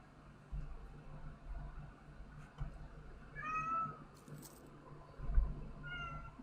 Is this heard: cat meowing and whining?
yes